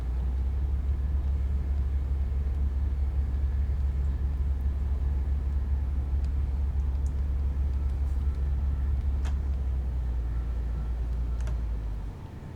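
A Class 185 diesel train in Train Simulator Classic on the Huddersfield Line from Leeds to Manchester runs with a continuous heavy low rumble and faint rattles that ease off at the end.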